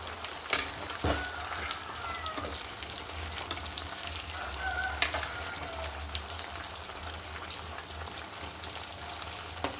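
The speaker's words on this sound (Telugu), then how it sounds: "ఆయిల్ ప్రతిదీ ఆయిల్లో మునిగేటట్టు వేసుకుంటే ఫ్రై అయిపోతుంది." Food deep frying in a pan of oil, a steady dense sizzle and crackle that runs throughout, close and fairly loud, with a few brief clinks from stirring.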